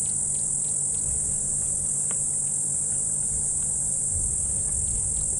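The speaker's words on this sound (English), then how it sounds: "from the sound of the cicadas" A loud, continuous high-pitched insect drone fills the air without pause, with faint scattered chirps and background rustle beneath it.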